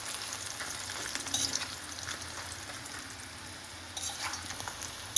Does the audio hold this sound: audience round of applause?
no